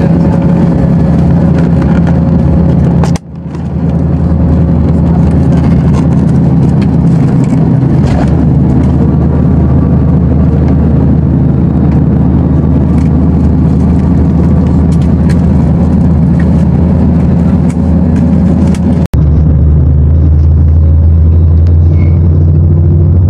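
Steady engine rumble and road noise inside a moving bus on the way to Mecca, loud and continuous, with a brief dip near the start and a quieter cabin hum toward the end.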